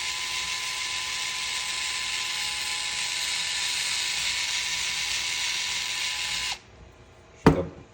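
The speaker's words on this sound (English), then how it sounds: "then you can use the electric screwdriver" Electric screwdriver whining steadily at close range as it backs a screw out of an SCX24 RC crawler axle, running about six and a half seconds before stopping, followed by a short sharp clack, no talking.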